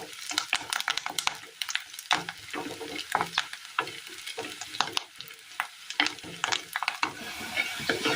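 Onions frying in an oil-filled pan for a Kerala curry, with steady sizzling and repeated sharp scrapes and clatters of a spoon stirring, close and continuous.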